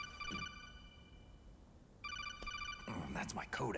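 Codec call ringing in Metal Gear Solid: The Twin Snakes, a burst of rapid electronic beeps after a quiet stretch, with a brief faint ring trace at the start and voices coming in over the end.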